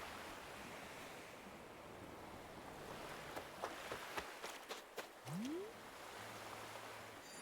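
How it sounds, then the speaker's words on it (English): Wind blowing in a steady, broad rush with a surf-like texture, punctuated by a few faint clicks and a brief rising tone near the end. "I hear wind."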